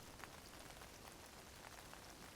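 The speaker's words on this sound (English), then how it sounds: "We've got a different weather here. We've got rain!" Rain falls at night in the video game Log Away, a faint, even patter of drops on surfaces that holds steady throughout with no voices.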